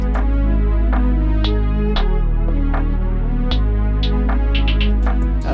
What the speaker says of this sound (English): I also added this Moog bass.